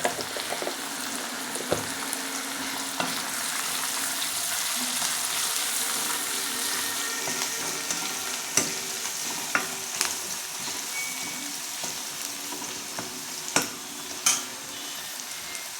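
Onions sizzling in a pan with turmeric for an egg gravy, a steady close fry broken by repeated scraping clicks of stirring, with no talking.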